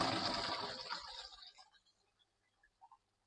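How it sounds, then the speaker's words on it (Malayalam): Rinse water poured off washed blueberries, freshly picked in a Finnish forest, rushes out in a loud gush that quickly fades to a few faint drips and trickles. "നമുക്ക് ഈ വെള്ളം കളയാം."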